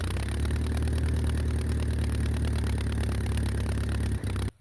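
A Massey Ferguson 35 diesel tractor, freshly rebuilt and out in a hay field, idles with a steady low chugging drone that runs evenly and loud before cutting off abruptly near the end.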